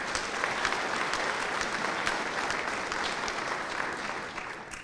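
Steady audience applause fills a military change of command ceremony for the 16th Air Force (Air Forces Cyber), a dense, even wash of many hands clapping at moderate volume throughout.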